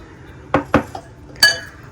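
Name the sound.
mashing onions with a potato masher in a pot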